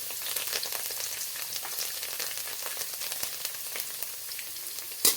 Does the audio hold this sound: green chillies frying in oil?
yes